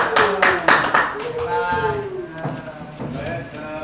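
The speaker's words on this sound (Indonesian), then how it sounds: "kita aplaus untuk kelompok 2" Applause for a student group at a classroom teaching-performance session: irregular hand claps from a small group, with voices and chatter mixed in and over them.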